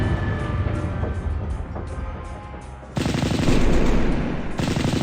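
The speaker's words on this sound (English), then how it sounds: "that's Leman Russ Overwatch fire" Rapid gunfire from Leman Russ tanks firing on overwatch in a Warhammer 40K Epic battle between Orks and Imperial Guard: rattling bursts over a low rumble, turning louder and denser after about three seconds.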